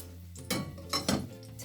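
A cooking pot is swirled on the stove to coat it with cooking oil, giving three distinct metallic clanks and scrapes over a low background hum.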